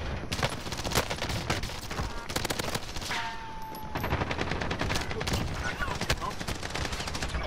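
Video game gunfire crackles in dense, continuous volleys of overlapping shots, loud and sustained with no pause between bursts, without any talk.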